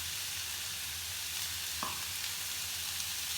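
Cabbage and other vegetables for a Cajun spice chicken wrap frying in a pan, a steady hiss of sizzling with a soft scrape of stirring partway through, and no talk.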